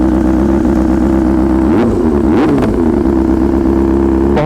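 Kawasaki ZX10R superbike fitted with a full Akrapovic exhaust system, idling loudly up close and then revved sharply two times, its deep engine note rising and falling with crackles, no talking.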